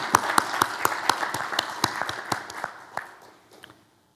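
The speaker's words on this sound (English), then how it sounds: "Let's give a round of applause for the Oregonian team." An audience claps at a journalism awards ceremony. Distinct, fairly loud claps land in a quick rhythm, then thin out and fade to a few scattered claps before silence.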